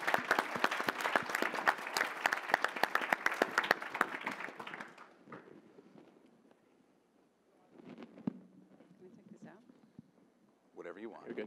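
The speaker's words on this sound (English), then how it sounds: "Big round of applause, it's a hard thing to do." An audience at an entrepreneur pitch event applauds loudly for a few seconds, then the clapping fades out and scattered talk and room noise follow.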